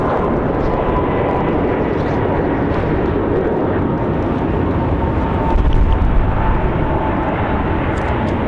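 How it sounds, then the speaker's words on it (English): A Frontier airliner departs Raleigh-Durham with an early rotation in gusty wind, its engines producing a continuous heavy roar that swells slightly toward the end. "Frontier with a very early rotation there for that departure."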